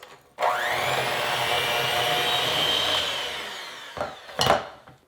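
An electric hand mixer creams lemon cake batter in a bowl: a loud, steady motor whine runs for about three seconds, then cuts out, followed by a couple of sharp knocks and clatters.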